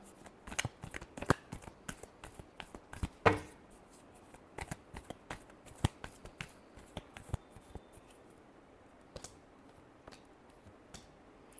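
Tarot cards are shuffled by hand close up in a long series of quick, crisp riffles and slaps, irregular in rhythm and quiet overall.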